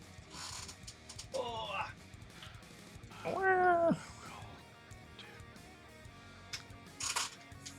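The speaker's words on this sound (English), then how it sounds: "Kitty." A cat meows twice at close range, a short call and then a longer, louder rising-falling meow, with scattered soft mechanical clicks and light background chatter around it.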